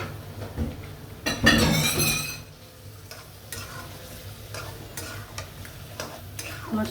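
Snakehead fish being sautéed in a pan with bitter gourd, a strong burst of sizzling and stirring early on that settles into a quieter hiss with scattered scraping clicks.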